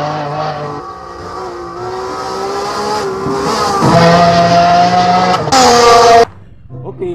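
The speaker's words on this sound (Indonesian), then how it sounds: "Oh, yang ini mobil balap teman-teman." Toy race car engine sound effect, loud buzzing revs with rising and falling pitch, building to a louder squealing burst before cutting off abruptly near the end.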